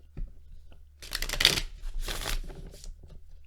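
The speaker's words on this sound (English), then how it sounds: "So here's a demo of how the cards shuffle." Standard-size Modern Love Tarot cards are shuffled by hand in two or three quick riffling bursts, crisp papery flutters close up with short pauses between.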